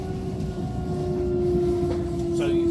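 A train approaching Stevenage station, heard from on board: a steady low rumble of the rolling train with a sustained whining tone and faint rattling, loud and continuous.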